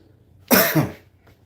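A single sharp cough, close and fairly loud, with a short throaty tail before quiet returns.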